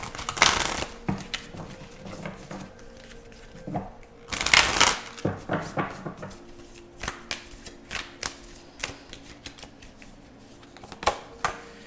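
Tarot cards shuffled and drawn up close, with dense riffling bursts at the start and around the middle, then scattered soft flicks and slaps of single cards being pulled and placed, with no talk.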